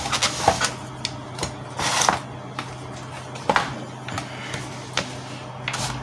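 An Epson L805 printer powers up with a scattered series of mechanical clicks, clunks and short whirring bursts over a steady low hum, fairly close and with no voices.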